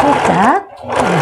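Sewing machine backstitching while making a collared blouse: a loud, close, steady motor whir that cuts out for a moment, then starts up again, with someone speaking.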